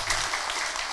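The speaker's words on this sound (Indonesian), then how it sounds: "Tepuk tangan buat Ibu Nisa." A short burst of audience applause, steady clapping from a room full of people with no talking over it.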